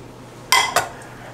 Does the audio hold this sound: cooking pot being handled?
yes